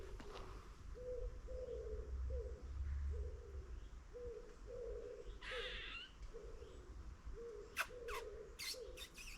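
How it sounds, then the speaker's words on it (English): A pigeon cooing outdoors in Leven, a soft repeating coo phrase roughly once a second, faint and steady, with a few brief chirps and clicks near the end. "There's a pigeon"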